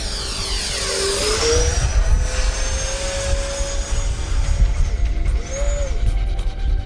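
F-22 Raptor jet in a flight simulator game, a steady loud engine roar with a whining tone that rises and falls as the aircraft maneuvers, heard alone throughout.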